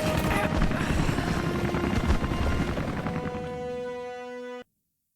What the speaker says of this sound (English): Really need to shoot this helicopter out of the goddamn sky.